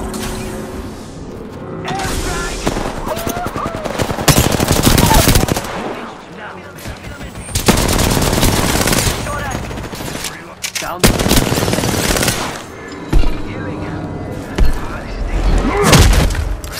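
Heavy gunfire in Apex Legends, loud bursts of automatic shots and booming impacts coming in waves with short lulls between, close and dense, with voices briefly under the fighting.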